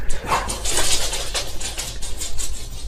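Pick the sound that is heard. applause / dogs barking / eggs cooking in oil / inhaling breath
dogs barking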